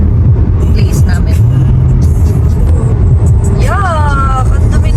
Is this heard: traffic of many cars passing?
yes